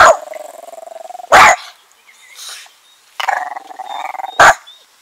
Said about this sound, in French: il y avait un chien qui se baladait